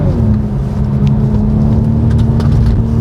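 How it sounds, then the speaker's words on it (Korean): A Hyundai Veloster engine in sport mode with manual shifting gives a loud, steady drone with a firm low hum that holds close and constant for a few seconds. "엔진 사운드 역시 스포츠 모드의 수동 변속으로 올라가겠습니다"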